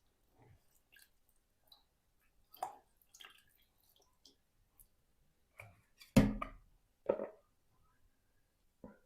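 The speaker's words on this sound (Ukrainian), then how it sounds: "Промиваю добре все, воно вспливе лишнє доверху." Currants being rinsed in a bowl of water, heard as scattered soft drips, splashes and wet squishing handling sounds with brief pauses between them, one louder splash near the middle, no talking.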